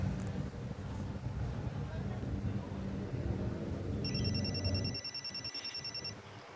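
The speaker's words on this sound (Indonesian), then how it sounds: "Aku telepon Yanti dulu" A telephone rings with a bright, repeating electronic tone near the end, heard over steady street or traffic rumble after a dialing moment, no speech over it.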